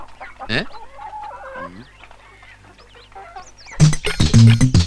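Hens cluck and chatter in short, uneven bursts, close by, with a louder flurry of squawking near the end.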